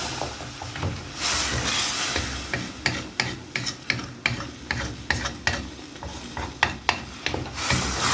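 A spoon stirs a basmati rice substitute in a pot of water, giving repeated scraping strokes at an uneven rhythm over a soft steady sizzle and hiss, close and fairly loud.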